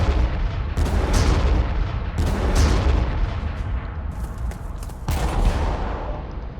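Artillery rounds in the strategy game Armageddon land in a rolling series of heavy booms, several distinct impacts roughly a second or two apart over a constant rumbling battle din.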